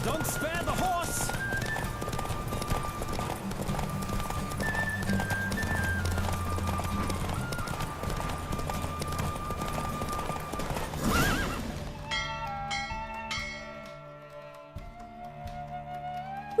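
Hoofbeats of a galloping horse pound steadily through a race in the video game The Witcher 3 amid music and talking. The galloping stops abruptly partway, leaving a neigh and quieter music.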